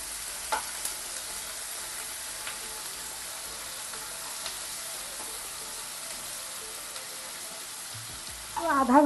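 Chopped green pumpkin fries in a pan with a steady, close sizzle and occasional scraping stirs, before a louder splash of sound rises near the end.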